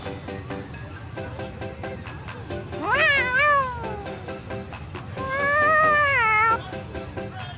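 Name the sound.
cat meowing in video game Tales of Xillia 2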